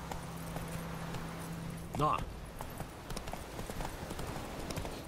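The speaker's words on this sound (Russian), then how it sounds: "Ну, лошадь сама, короче, скачет по... тому, ну, по той дороге" A horse clip-clops along a road in The Witcher 3, rhythmic hoofbeats under continuous background ambience, with a brief voice and a short sharp sound around the middle.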